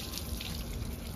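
A microfiber cloth is soaked in water for washing a car at home, giving a soft, steady splashing and trickling of water, faint and close, with no voices.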